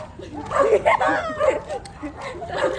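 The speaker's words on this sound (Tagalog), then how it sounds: "Ang daming aso." Several dogs bark and yip repeatedly nearby in short, uneven bursts over a busy background while Christmas carolers sing outdoors.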